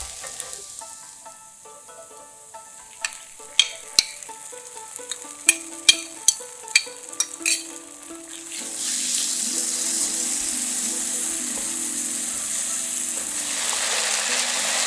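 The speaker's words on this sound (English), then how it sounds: "Stir fry it until it turns to golden brown." Marinated meat is stir fried in a wok, starting with sharp clinks and scrapes of a spatula against the pan, then a loud, steady sizzling hiss that takes over and continues to the end.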